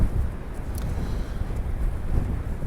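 Wind gusts across the Blackpool promenade on a windy day, a loud, constant low rumble of buffeting against the microphone with no voices.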